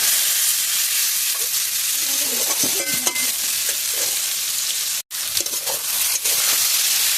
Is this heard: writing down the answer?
no